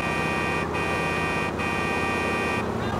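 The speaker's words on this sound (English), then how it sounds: "We don't have sirens, so we're just gonna honk a lot." Car horn in GTA 4 honking loudly in three long blasts separated by brief gaps, with a steady engine hum underneath.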